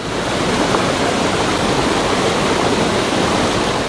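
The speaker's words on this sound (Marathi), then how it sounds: "रत्नागिरीच्या निवळीच्या धबधब्यात नुकत्याच सुरू झालेल्या पावसाने जीव ओतलाय" Nivli waterfall in Ratnagiri in the monsoon, a steady, loud, broadband roar of falling water that continues unbroken throughout with no voices.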